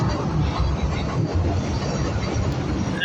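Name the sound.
train passing by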